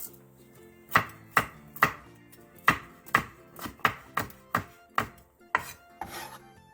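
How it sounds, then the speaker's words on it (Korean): A knife chops green onion and chili peppers diagonally on a cutting board, about eleven sharp, evenly spaced thuds at a steady, brisk rhythm, close and clear with no talking. "대파 2분의 1개와 청양고추 2개를 어슷썰게 해주세요."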